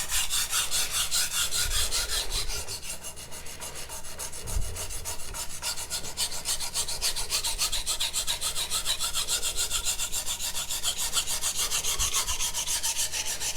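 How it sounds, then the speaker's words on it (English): A Magnacut steel knife is drawn in short, rapid, rhythmic strokes across a flat sharpening stone, producing a steady close rasping scrape that continues without pause and with no talking. "I can do short strokes on this stone because this stone's not going to dish."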